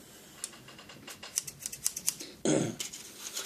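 A quick run of sharp, crisp scissor snips through aluminum sheet, one after another, then a brief louder scrape and rustle close by.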